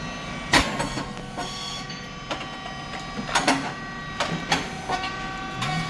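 A SYP35100 rice cake machine with titanium-coated moulds runs with a steady mechanical hum, broken by sharp repeated clacks and bursts at irregular intervals, close and moderately loud.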